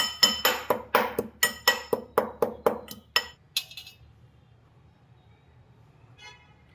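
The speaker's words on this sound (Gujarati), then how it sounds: "એને આપણે ખાંડણીમાં કૂટડી અને એની પેસ્ટ બનાવી નાખશું" Green chillies pounded in a mortar into paste: about a dozen sharp, ringing strikes in steady rhythm, close and loud, then stopping, leaving faint background noise.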